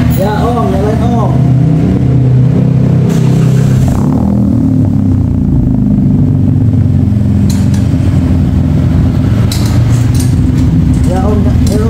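Daihatsu Ayla 1.2 car with a newly fitted aftermarket exhaust, a loud, deep, steady engine rumble that holds throughout, with brief human voices over it.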